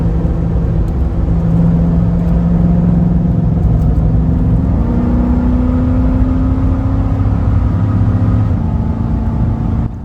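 A JLR Classic V8 Land Rover Defender 90 drives along a road, heard from inside as a loud, continuous engine drone with tyre and road rumble, the engine note stepping up and back down as it changes speed, with no talking.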